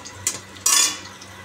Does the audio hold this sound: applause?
no